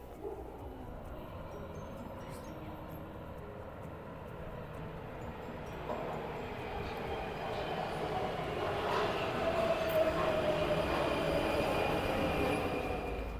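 A Prague Metro train on line A rolls into Nádraží Veleslavín station, its rumble building steadily with faint wheel squeal and rising motor whine as it approaches.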